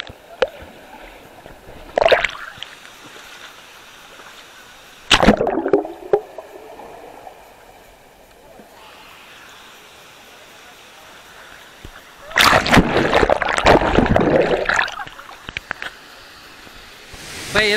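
Rushing water at a waterfall in Meghalaya, a steady broad roar with loud splashing surges near the start, middle and end.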